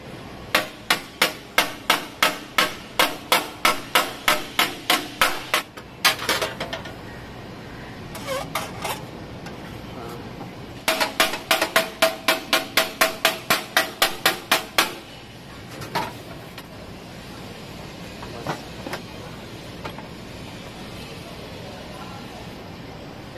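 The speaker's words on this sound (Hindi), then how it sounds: "हथौड़े से एकदम हल्के हल्के से अपन मारेंगे तो सीधा डेंट बाहर आ जाएगा" A small hammer lightly taps a dent out of an Activa 3G scooter body panel: two long runs of quick, evenly spaced metallic taps, close up, separated by quieter scraping and handling noises.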